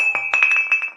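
Glass clinks in a quick series of bright, ringing taps, about eight strikes over a second, close and clear with no talk over them.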